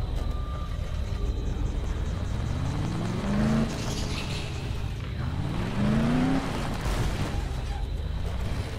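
A vehicle drives in the zombie game Dead Island, its engine droning steadily and rising and falling in pitch through two clear revs, with no talking.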